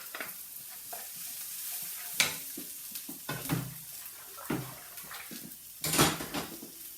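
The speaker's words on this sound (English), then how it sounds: "I'm going to throw in my lemongrass garlic" Lemongrass and garlic mixture tossed into a hot pan over lowered gas, giving a steady soft sizzle broken by several louder stirring scrapes and clatters, close and without talk.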